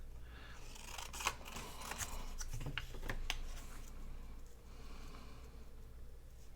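Scissors cut paper for scrapbooking, a few close, crisp snips and rustles of paper being trimmed, with no talking.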